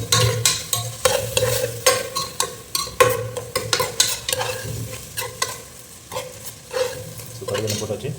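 Mustard seeds frying in mustard oil in a pan: dense rapid crackling and popping with sharp spits scattered throughout over a steady sizzle, close and fairly loud, without speech.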